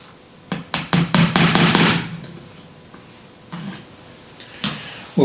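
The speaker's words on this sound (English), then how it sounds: "So I've nailed down the piece of masonite" Small nails are driven by hand into a piece of masonite at a rail yard track switch, a burst of about six sharp close hammer blows followed by a few scattered taps.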